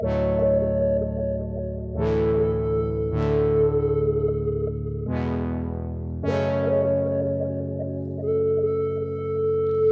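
Diva synth pad in a ULTRAKILL-inspired track, sustained chords shifting a few times with bright attacks at each change, loud and continuous with no voices.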